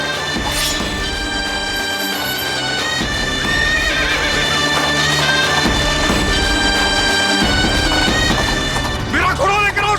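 A horse neighs loudly with hooves clip-clopping, mixed with a dramatic orchestral score and crashing action from a historical battle scene, near and continuous throughout.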